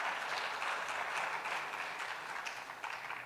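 Business forum audience at Global Expo Botswana 2023 applauds itself at the close of a plenary session, a steady, moderately faint spread of many hands clapping that tapers gently toward the end.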